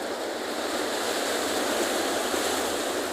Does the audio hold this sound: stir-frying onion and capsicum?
no